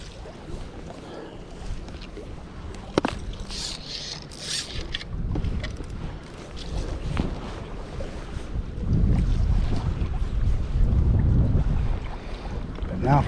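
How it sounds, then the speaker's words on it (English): Strong downstream wind buffets the microphone beside the Sheboygan River, swelling into heavy low rumbling gusts that grow louder toward the end, with the river's flowing water faintly underneath. "now I have a very strong downstream wind"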